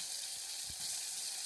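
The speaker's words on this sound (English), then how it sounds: "My things are like sizzling" Breakfast food fries in a hot pan, giving a continuous bright hissing sizzle with faint crackles, close and fairly quiet, with no talking over it.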